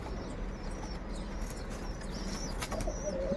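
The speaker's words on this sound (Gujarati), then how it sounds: "આપણે આવી ગયા તો કબૂતર પાસે" Pigeons gathered at a feeding spot give soft coos and bursts of flapping wings, heard moderately close over a steady, noisy outdoor background that swells toward the end.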